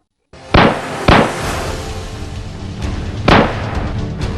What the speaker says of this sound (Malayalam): ഓടിക്കോ കൂട്ടുകാരെ, വെടിവെക്കുന്നു.